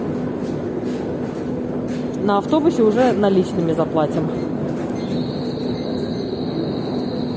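A Saint Petersburg metro train rumbles steadily near Novocherkasskaya station with a low drone and a high whine, while people talk briefly over the noise.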